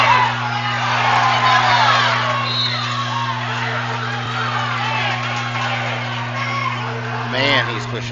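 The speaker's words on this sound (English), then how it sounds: "the crowd is going wild here" Basketball crowd at a Tahlequah vs Collinsville game roaring with sustained cheers, whoops and yells throughout, loud and dense, with a commentator's voice talking over the noise.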